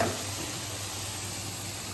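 Dry spices for dal makhani sizzle in a hot pan over a low flame, giving a steady close frying hiss with no voices.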